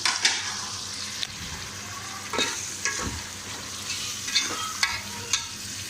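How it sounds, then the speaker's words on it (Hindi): Tomatoes and spices cook in a pan while being stirred, giving a constant sizzle broken by repeated scraping and stirring strokes. The sound is close and moderately loud, with no talking. "टमाटर गल रहे हैं, इसको हम अच्छी तरह मिक्स करके"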